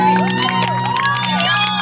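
Concert crowd at a show by a Makassar singer cheering and whooping loudly and continuously, with scattered clapping, shouts and music tones running through the whole brief stretch.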